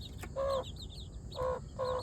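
Chicks of the Gavran country chicken breed cluck and peep while feeding, three close bursts of soft chirping calls separated by brief pauses, with a steady background hiss and no talking.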